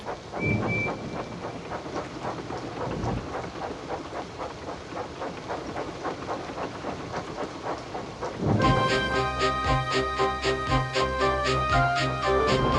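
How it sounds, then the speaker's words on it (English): A steady wash of heavy rain hisses throughout, with rhythmic steam locomotive chugging underneath and a denser, louder patch of rattling toward the end. "The rain streamed down Percy's boiler"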